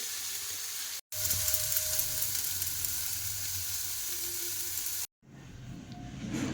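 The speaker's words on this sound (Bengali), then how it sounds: "প্রথমে আলুটাকে ভেজে নিয়েছি, তারপরে শাকটা তুলে দিয়েছি। এইভাবে আলু আর শাকটাকে ভেজে নেব।" Potatoes and fresh fenugreek greens frying in a pan with salt and turmeric, a continuous bright sizzle close up, broken by two brief drops to silence, with no talk.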